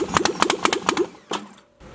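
An LS-swapped Jaguar XJ-S cranks on its first start attempt with the fuel pump relay unplugged. The starter churns in a quick, rhythmic series of close, loud pulses, then stops and gives one last short turn before it goes quiet.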